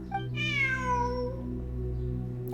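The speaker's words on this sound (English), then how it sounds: "Look, a cat." A cat meows in the video game Genshin Impact, one drawn-out, falling meow, loud and close, over a steady low game music bed.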